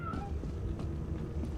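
A white cat in the video game Lethal Company gives a brief meow early on, faint beneath a constant low rumbling game backdrop.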